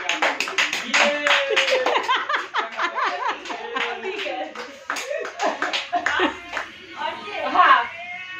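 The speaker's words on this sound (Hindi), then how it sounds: "तालियां तो बजाओ, किस काम के लिए हो? ताली बजाओ।" Family members at home clap their hands in an uneven, lively rhythm, mixed with laughter, giggling children and talking voices nearby.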